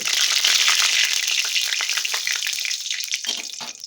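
Cumin seeds crackle and sizzle in hot mustard oil while being stirred, a dense bright hiss with scattered pops and scraping, close and steady, thinning slightly toward the end.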